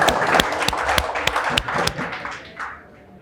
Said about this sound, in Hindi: दोनों के लिए ताली बजाओ।